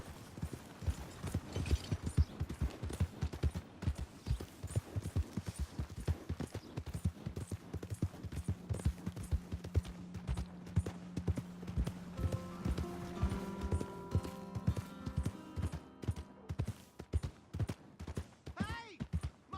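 Steady, rapid clip-clop of horse hooves ridden in the video game Red Dead Redemption 2, running continuously and close, with a voice and tonal game sounds mixed in over the second half.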